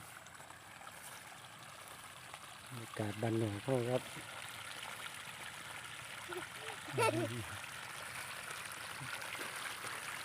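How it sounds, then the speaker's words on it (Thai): Water flows softly and steadily through a channel in a rice field at evening, a faint continuous trickle while someone speaks briefly over it twice. "เสียงน้ำไหล"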